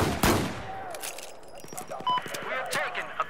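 Battlefield 4 machine gun firing in a game match, quick crackling shots layered with footsteps and other battle noise, while someone talks over it throughout.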